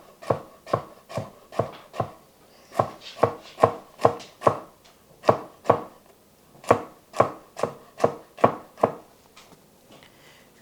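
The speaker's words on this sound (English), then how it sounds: "Cut it in thin slices." A kitchen knife slices food into thin diagonal pieces on a cutting board for a chicken stir-fry, giving a steady series of crisp, close thuds with short pauses in between.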